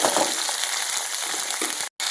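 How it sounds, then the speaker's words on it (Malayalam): Washed rice drops into hot coconut oil for a crunchy fish-egg snack and sizzles and crackles steadily and close by, with scattered pops throughout and a brief break of silence just before the end. "ഇനി നമുക്ക് കഴുകി വെച്ച അരി ഇതിലോട്ട് ഇട്ട് കൊടുക്കാം കേട്ടോ."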